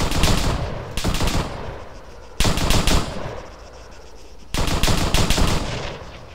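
Machine gun fire in the Arma III military video game, several long sustained bursts of rapid automatic shots separated by short pauses, loud and close with no talking.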